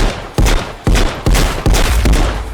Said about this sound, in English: The 1911, only single fire.